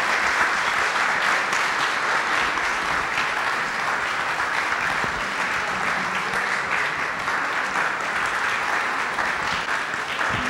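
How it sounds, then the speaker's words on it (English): A seated audience at an introduction ceremony at Makati Medical Center gives a long round of applause, a dense, even roar of clapping that holds steady for about ten seconds without a break. "I'd like to ask you all to give her a round of applause."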